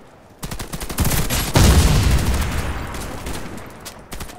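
Gunfire in the first-person shooter Warface, a loud close burst of rapid shots that fills the middle of the moment and rings out into a fading tail, with no talking over it.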